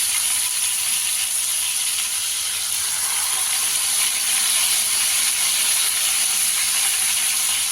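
Marinated til paneer fries gently in hot oil in a pan over a low flame, giving a loud, steady sizzle and hiss that continues without a break.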